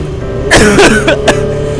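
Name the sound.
coughing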